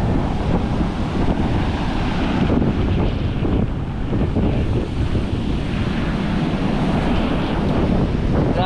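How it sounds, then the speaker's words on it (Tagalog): Big sea waves crash and surge under strong, gusty wind along a flooded coastal road, a loud continuous roar of surf with wind buffeting the microphone throughout. "Malaki na naman po yung alon."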